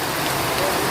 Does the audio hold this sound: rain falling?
yes